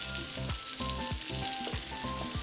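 A coconut and onion paste sizzles and fries in a pan for idli kurma, a steady, fairly quiet crackle that runs throughout beneath a melodic background tune.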